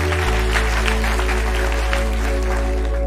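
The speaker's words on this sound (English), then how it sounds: "Round of applause." An audience at a talk on languishing and flow applauds, a steady wash of clapping that is close and fairly loud, with a sustained low hum beneath it.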